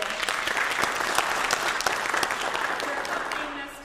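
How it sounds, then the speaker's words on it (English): Warm applause from the audience at a senior vocal recital, a steady run of many hands clapping that fades slightly toward the end. "I want to thank a huge round of applause to Sherry for"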